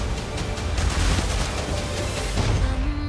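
Rumbling booms and bursts of gunfire-like blasts from an action movie trailer, a dense, loud and continuous barrage of explosions with a steady low-end roar throughout.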